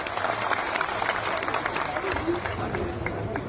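A crowd at a Thakor community gathering with saints present claps for the saints, a fairly soft, continuous patter of hands rising and falling under the room's murmur for a few seconds.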